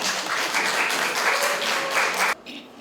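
Audience applause at a Brazilian tropical culture talk concert welcoming two elderly guests, steady broadband clapping for over two seconds before cutting off abruptly.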